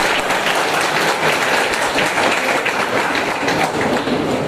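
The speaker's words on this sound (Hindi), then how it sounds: "एक जोरदार तालियां बजनी चाहिए इनको स्वागत के।" Audience applause at a Kargil Victory Day ceremony honoring veterans and war widows, a dense, continuous patter of many hands clapping, loud and steady throughout with no speech over it.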